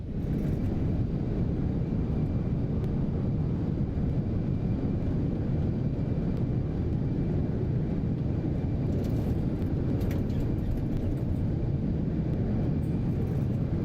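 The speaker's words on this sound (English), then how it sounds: "Reversers engaged." Steady, loud roar of thrust reversers on an X-Crafts Lineage 1000 business jet during landing rollout in X-Plane 12, a continuous broad rumble that holds for the whole stretch with no talking.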